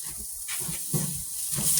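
Steak sears in a hot pan with a continuous bright hiss, and soft low thumps and crackles rise and fall beneath it at close range.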